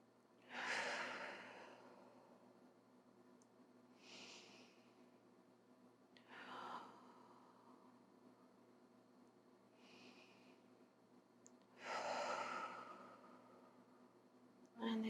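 Slow, deep breaths during prenatal yoga, several long audible inhales and exhales spaced a few seconds apart, soft and close with quiet pauses between them.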